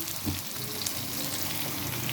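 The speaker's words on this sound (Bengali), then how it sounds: "একসাথে করে এটা মাখায়া পরে আমি ভাজছি" Pointed gourd (potol) coated in ground chili, turmeric, garlic, ginger, coriander and cumin fries in a pan, producing a dense continuous sizzle at close range with faint occasional clicks and no voices.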